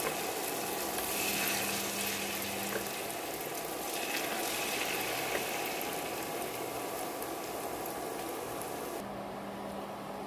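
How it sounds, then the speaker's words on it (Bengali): Jilapi spirals fry in hot oil over low heat, a continuous soft bubbling sizzle with light crackles and faint tonal hum, steady and close until it quiets abruptly near the end. "আমি এভাবে প্রতিটা জিলিপি ভেজে নেব।"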